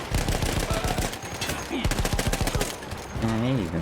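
A mounted machine gun in Battlefield 1 fires rapid, steady bursts of loud gunfire close by, with a short pause midway and other game sounds mixed in.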